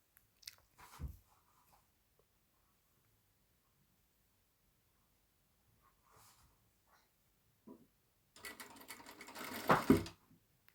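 A sewing machine stitches fabric for a homemade hair elastic in a few short bursts separated by quiet pauses, with a longer, louder run near the end, heard close up and alone.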